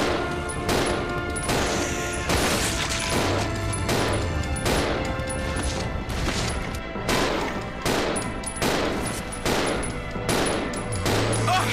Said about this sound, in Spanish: ¿y los tiros qué pasa?